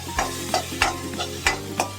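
Chopped onion sizzles in a hot pan while being stirred, with about six sharp scraping strokes at an uneven rhythm over a steady close frying hiss.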